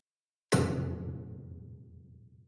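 A single deep, booming hard techno kick after a short silence, made in Serum 2, followed by a long rumbling hybrid reverb tail that slowly fades.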